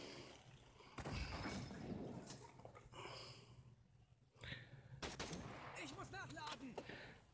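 Gunfire in a World War video game, with bursts of shots repeating across the clip over continuous game background noise, while a player talks throughout.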